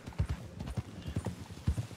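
Horse hooves clip-clop in Red Dead Redemption 2, an uneven walking rhythm of close, distinct thuds with no one talking over them.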